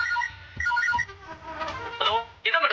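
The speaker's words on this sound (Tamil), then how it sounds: "ரிங் ஆகுது, ஆனா எடுக்கல." A phone rings with a short, repeating ringtone melody at the start, then voices speak over and after it indoors.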